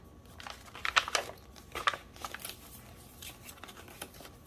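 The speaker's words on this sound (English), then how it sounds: "And I just tucked this little piece of ledger paper in." Ledger paper tucked into a dark academia journal gives soft, close rustles and crinkles of paper, with a few brief crisp bursts near the start and quieter shuffling afterward, and no voices.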